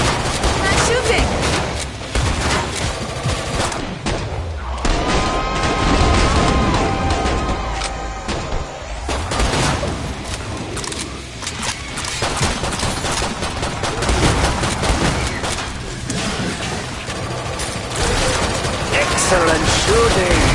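Sustained gunfire in Killing Floor 2 on PS4: dense bursts and rapid automatic shots run nearly nonstop at loud volume, with occasional voices and game sound layered underneath.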